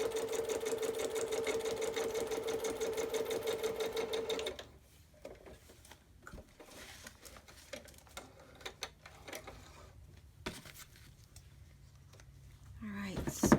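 A sewing machine stitches fabric in a fast, steady mechanical rattle for about four seconds, then stops. Quiet handling noises follow, and the motor briefly starts again at the end. Someone talks softly.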